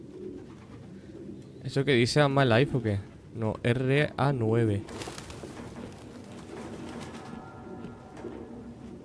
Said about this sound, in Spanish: Ningún humano viviría con esas putas palomas.